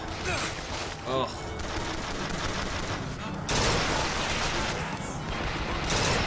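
Repeated gunfire from a weak in-game weapon in the first-person shooter Bioshock Infinite, sustained bursts over game effects, with players talking over it.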